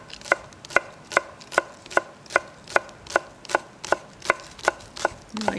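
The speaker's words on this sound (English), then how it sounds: "So I'm going to slice the spring onions quite fine." A knife chops spring onions finely on a cutting board in a steady, even rhythm of about a dozen crisp close knocks, with no talking.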